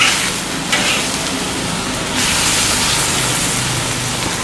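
Pig heart and chopped chili sizzle and hiss steadily in a wok over a strong stove flame, with occasional stirring scrapes and no talk.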